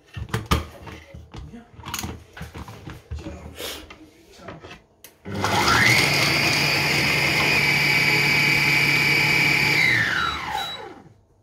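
A Compact Cook Platinum food processor mixes beef curry ingredients at speed 6. Clattering handling noises are followed by about six seconds of loud, steady motor whine, which winds down at the end.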